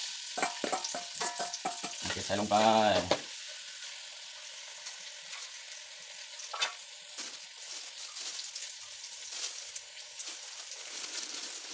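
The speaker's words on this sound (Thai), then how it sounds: "ตันนี้เราจะทอดหนังกรอบครับ" Crispy duck skin frying in a pan, a bright, close crackle and sizzle with a brief burst of bubbling, then a softer, steady sizzle that carries on alone.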